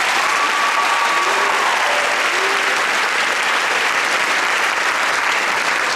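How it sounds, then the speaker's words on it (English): Sustained applause from a large audience at a 2016 university commencement ceremony in Kansas City, loud, dense clapping filling the hall evenly from start to finish with a faint voice or tone briefly beneath it. "Please give Denise a round of applause."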